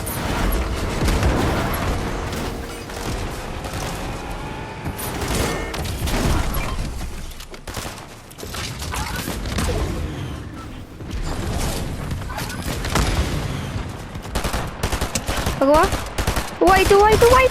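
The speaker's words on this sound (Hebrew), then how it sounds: "יש שם יריות." Rapid gunfire bursts and bangs in a Fortnite match, repeated volleys crackling over busy game sounds, with loud shots and mechanical clatter throughout.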